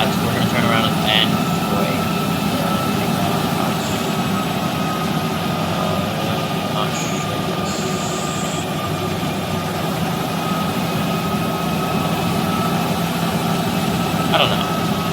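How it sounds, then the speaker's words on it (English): A steady, loud airliner engine drone with a whining hum fills the scene as the plane taxis on a runway in the Project Flight game, with a few faint beeps and no gaps. "We're gonna taxi up the runway, and then we're gonna turn around at the end."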